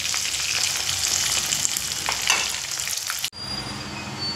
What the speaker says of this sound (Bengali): দেখুন, ডাঁটা আর আলু আমার ভাজা হয়ে গেছে।